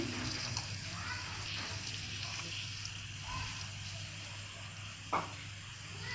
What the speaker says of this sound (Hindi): साथ ही इसमें ये थोड़ा सा पानी भी शामिल कर देंगे।